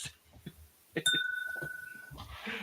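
A drinking glass is struck during a whiskey tasting, giving one bright, clear chime that rings and slowly fades over about a second. It is close by, and muffled voices can be heard around it.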